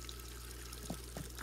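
Running sink water in the video game Animal Crossing trickles and pours faintly and steadily, with a few light splashy blips near the end and no voices.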